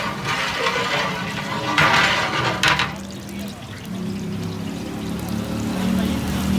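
Around 4.5 kilograms of ghee pours into a large cooking pot for a white chicken karahi. A continuous close liquid pour settles into a lower, softer trickle and gurgle.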